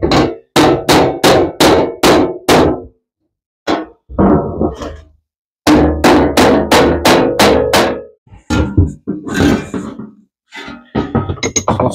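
A hammer taps repeatedly on sheet metal while custom door skins are being made, close and loud, coming in quick rhythmic runs of five or six blows separated by short pauses.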